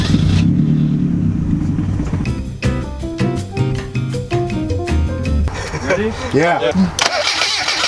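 A racecar engine cranks, catches and fires up running on Everclear, rising into a loud revving roar close by, while people speak briefly over it.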